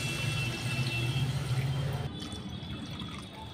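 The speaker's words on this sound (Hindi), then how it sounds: "तो अब इसमें पानी डालेंगे।" Water is poured into a pan of Kolhapuri kat vada curry after the masala has been fried until the oil separates, a short splashing trickle that stops abruptly after about two seconds.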